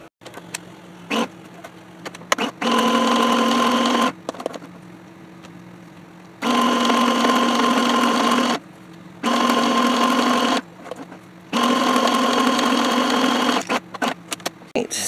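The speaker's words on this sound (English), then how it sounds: "And I'm going to stitch it around here with some pretty orange thread." A sewing machine stitches around a paper-and-photo collage with orange thread, running in several steady bursts of a few seconds each, loud and close, separated by short pauses, with no voices.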